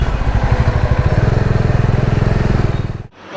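A motorcycle is ridden along a road, its engine thrumming loud and close with a steady, rapid pulsing that fades sharply near the end before picking up again.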